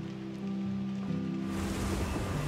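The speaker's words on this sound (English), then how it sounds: "Oh, the rain!" Steady rain in a video game forest swells in and patters across surfaces, growing denser after a moment under a low, sustained musical drone.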